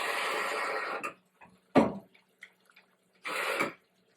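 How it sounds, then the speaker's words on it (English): Water is poured into a cooking pan on the stove in a few short splashing bursts, close and fairly clear, with quiet gaps between pours. "I'm going to add a little bit more water."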